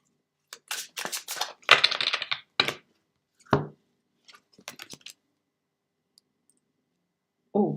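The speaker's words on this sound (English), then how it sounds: "So, right, Jean Marie, I'll just go and shuffle these again." Papery tarot cards riffle and snap in quick bursts, a few clustered shuffles followed by scattered taps and a pause, close and fairly quiet.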